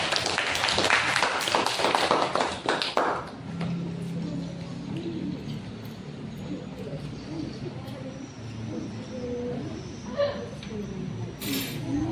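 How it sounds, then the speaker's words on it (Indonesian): A class of students gives a short round of applause during a lesson, brisk clapping for about three seconds that then gives way to quieter room noise and murmured talk. "Oke, beri tepuk tangan ya."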